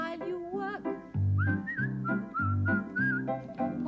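Someone whistles a bright, bouncy tune over a plodding rhythmic accompaniment, the melody clear and up front.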